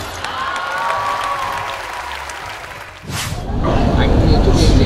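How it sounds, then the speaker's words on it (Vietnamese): Audience applause breaks out loud and close, a dense clatter of clapping swelling in the second half after a stretch of murmuring crowd and backstage noise. "Mọi người có thể dành cho test một tràng pháo tay"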